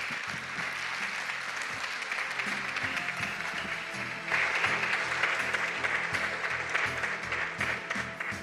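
Audience applause for presenters at a Zaragoza presentation event, a steady sustained round of clapping from a crowd that swells louder midway and carries on to the end, with no speech over it.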